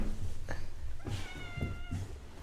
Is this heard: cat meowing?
yes